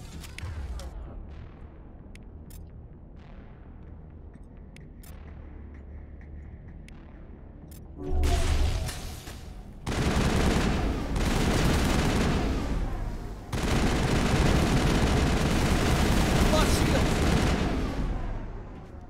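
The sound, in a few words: gunfire from a video game (Mass Effect)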